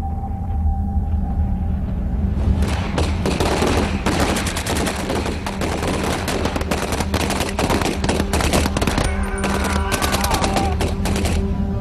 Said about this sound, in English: he is himself struck down by shots from a German machine gun